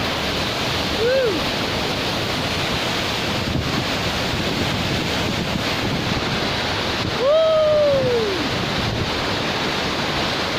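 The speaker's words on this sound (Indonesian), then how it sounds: "Air terjun yang sangat indah." A constant loud roar of rushing, falling water from Langkuik waterfall in West Sumatra fills the clip, with brief voice-like calls rising faintly above it.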